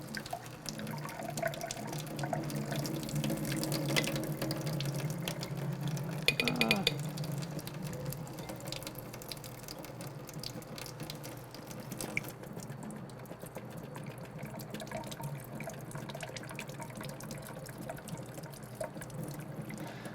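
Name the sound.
running tap water rinsing soil through sieves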